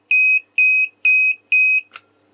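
A finished countdown timer sounds its alarm: four loud, evenly spaced electronic beeps, each about a quarter second long, followed by a short click as it is switched off.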